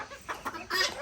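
Chickens cluck in short, soft bursts close by, with a few quick calls in about a second.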